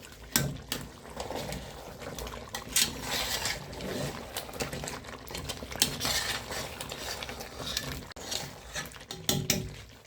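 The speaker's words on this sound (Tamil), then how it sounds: "இப்போ வந்து கிண்டி விட்டுக்கலாம்." A spoon scrapes and clinks in a pan of simmering turkey neck curry, with irregular metallic knocks and soft bubbling liquid, close and moderately loud.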